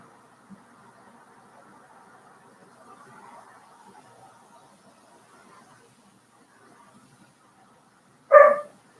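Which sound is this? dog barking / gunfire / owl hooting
dog barking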